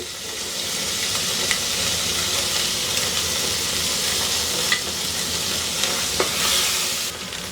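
Chili and ginger paste fries in a pan for a bean and potato curry, giving a steady close sizzle with a few soft clicks of stirring throughout.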